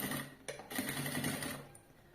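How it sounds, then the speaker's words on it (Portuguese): A sewing machine runs in quick bursts while stitching a zipper onto a backpack, its fast mechanical chatter close and steady with a couple of short pauses. "Vou costurar bem na pontinha o zíper"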